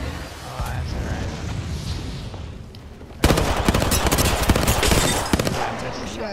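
Gunfire in a battle royale video game: a muffled mix of noise first, then rapid bursts of close automatic shots crackling densely through the second half, loud and continuous.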